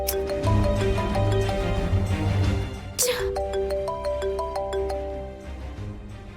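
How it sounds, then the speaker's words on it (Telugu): A mobile phone rings repeatedly and goes unanswered, a bright ringtone melody of repeating tones, loud and close, with a sharp break midway, set in a Telugu TV drama scene. "యువరాజ్ ఫోన్ లిఫ్ట్ చేయట్లేదు బాయ్."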